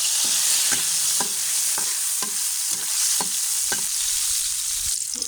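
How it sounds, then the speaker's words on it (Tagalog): Sautéing in a pan ahead of cooking mussels: a steady, close, loud sizzle of frying with a spatula scraping and stirring at a regular rhythm of about two strokes a second, with no talk. "Maggisa na tayo guys"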